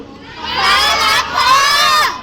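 A large crowd shouts loudly together in two surging bursts, a dense roar of voices close and energetic.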